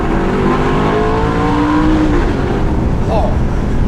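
A high-mileage Audi R8 V8 revs loudly nearby, its rising engine note sweeping up and down over steady road rumble, with voices talking beneath it.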